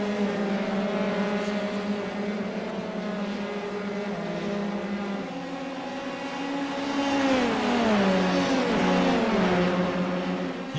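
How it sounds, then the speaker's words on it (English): Several Formula 3 race cars in a racing video game at Suzuka, heading toward Spoon Corner: a steady, loud engine drone with overlapping engine notes rising and falling in pitch as the pack accelerates, heaviest toward the end. "Whole group of cars here trying to make up positions."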